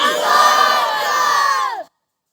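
A large crowd at an Islamic religious gathering answers the Nara-e-Takbir call with one loud, unified chant, sustained for nearly two seconds before cutting off abruptly.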